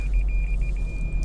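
Parking sensors on a Lexus CT 200h 1.8 Premier CVT beeping in a quick regular series of high pips over a low idling rumble, the beeps stopping partway through.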